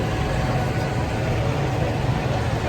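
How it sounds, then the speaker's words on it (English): Old Massey tractor engine idling before pulling off on a street parade, a steady low rumbling chug, close and loud, unchanging through the moment with no talk. "Tractor is just about to move on."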